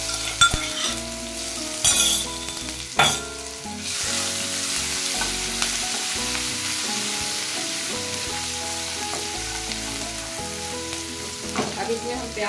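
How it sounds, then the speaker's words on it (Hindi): Ground garlic and ginger paste fries in hot oil with mustard and coriander seeds, a steady, close sizzle broken by a few sharp scraping stirs of a spoon against the pan, with no talking. "लहसुन अदरक जो हम पीस के रखे थे अभी से हम डाल देते हैं इसमें।"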